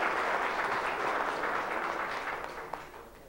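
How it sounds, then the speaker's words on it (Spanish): A crowd applauds a speaker at a community event on tourism in Puerto Plata, dense, steady clapping that gradually thins and fades away, with one sharp clap near the end. "denme un fuerte aplauso al licenciado Julio César"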